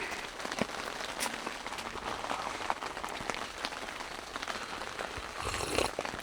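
Rain falls steadily on the surface of a tent at an off-grid cabin build site during a rainstorm. It makes a dense, even patter with scattered louder drops and swells slightly near the end.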